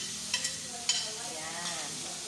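Soft sizzling and stirring as vegetables sauté in a hot pan with egg dishes nearby, a steady faint frying hiss with a few light clicks of a utensil, close but quiet.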